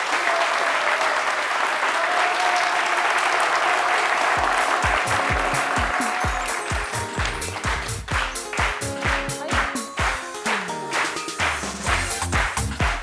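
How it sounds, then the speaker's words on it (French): A studio audience at a French-language midday TV show breaks into applause to welcome a guest, a dense, loud wash of clapping that thins into distinct individual claps toward the end. "Vos applaudissements s'il vous plaît, mesdames et messieurs,"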